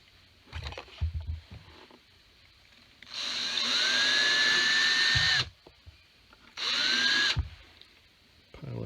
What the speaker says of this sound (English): Drill a pilot hole and then drill my hole.